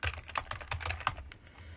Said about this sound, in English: I'll just type in a silly password, confirm it by typing it again